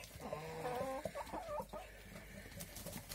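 A domestic duck gives a few close, soft quacks and chattering calls, followed by quieter rustling and faint background noise.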